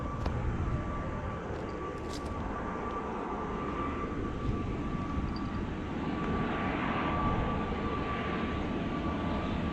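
An airplane passes overhead near the Tanyashen green bikeway. A steady, broad engine roar holds for about ten seconds at moderate loudness with no one speaking.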